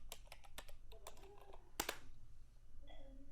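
Rapid keystrokes on a computer keyboard entering a date into an Excel sheet, a quick run of light clicks followed by a couple of sharper key taps, close and clear with no talk.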